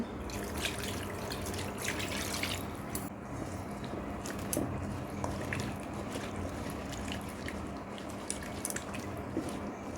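Water used to rinse a spice-coated bowl is poured into a cooking pot while making a steamed drumstick (sajne) dish, giving a steady, close, splashy wash of liquid that lasts throughout without clear talking.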